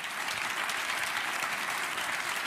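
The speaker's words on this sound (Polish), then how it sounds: "Poproszę o oklaski." A gala audience at Teatr Wybrzeże in Gdańsk applauds in a steady, dense wash of clapping that holds at an even level throughout, with no voices standing out.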